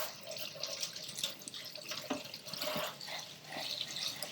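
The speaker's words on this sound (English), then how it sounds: "Rinse out the pot that it came in." Tap water runs over a plant pot as it is rinsed, with soft splashing and trickling that varies as the pot is moved. The sound stays quiet and close, and no voices are heard.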